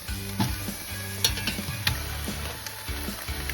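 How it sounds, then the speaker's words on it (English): A leftover turkey carcass is lowered into a Dutch oven, making a few soft clunks and rustles over a steady low background hum. "So to the Dutch oven, all we're going to do is add one turkey carcass."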